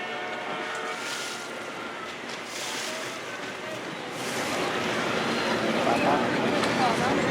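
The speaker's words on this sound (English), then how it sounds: "ये boat ride का trip अब जो है वो स्टार्ट हो चुका है।" Boat ride on a lake along the Chicago shoreline, with steady water wash and wind noise throughout that grows louder and rougher in the second half; no talk is heard.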